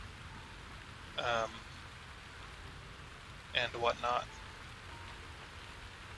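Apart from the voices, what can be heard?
rain in a video game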